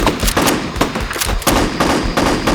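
Nerf blasters firing in a woodland Nerf war, a dense, loud, continuous burst of rapid pops and clatter with no pauses, like a sustained volley.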